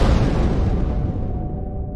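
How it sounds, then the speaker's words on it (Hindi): A loud, close explosion on a battlefield at the border: one heavy broadband blast that rumbles and slowly fades over two seconds, with no voices. "और तभी एक तेज धमाका होता है।"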